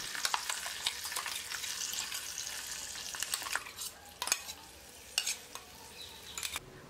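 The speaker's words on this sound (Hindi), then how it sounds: "10 से 12 कड़ी पत्ता, उसके बाद हमने जो मसाला बनाकर रखा है उसे डालेंगे।" Curry leaves, asafoetida and a prepared spice masala fry in a pan for ulta vada pav: a bright continuous sizzle for several seconds, then quieter frying broken by sharp stirring scrapes, close and without speech.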